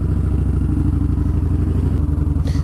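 A Yamaha Bolt 950 C-Spec cruiser motorcycle engine warms up at a steady, loud, close idle, its low rumbling pulse unbroken throughout.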